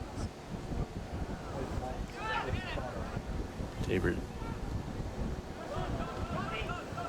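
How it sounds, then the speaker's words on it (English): Gusty wind buffets an outdoor microphone at a college men's soccer match in Kansas, a constant low rumbling roar under a commentator's voice. "it's been pretty windy out here in Kansas recently"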